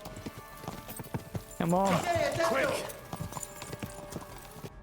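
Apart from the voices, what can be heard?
horse galloping in a video game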